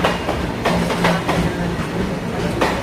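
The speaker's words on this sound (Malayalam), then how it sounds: "ഗുഡ് ട്രെയിൻ പോകുന്നതാണത് കാണുന്നത്" A goods train rolls past at Thrissur railway station with a steady rumble and repeated rhythmic clacks of wheels over rail joints, heard close and loud.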